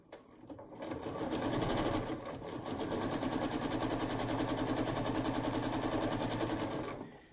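Sewing machine stitching quilt-as-you-go rows, a loud, fast, continuous mechanical chatter running for about six seconds with a brief dip near the start.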